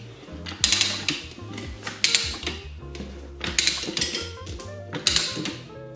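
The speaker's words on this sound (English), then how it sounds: "we're gonna walk the first bead on with the ratchet, because this tire's cold and it's being a little stubborn" A ratchet works a cold, stubborn motorcycle tire bead onto the rim, giving rhythmic clicking bursts and metallic creaks in a regular pattern, close and moderately loud, no talk.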